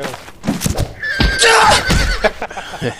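A video game horse lets out a whinny with a wavering, high tone over about a second, mixed with hoof-like thumps and loud game noise around it.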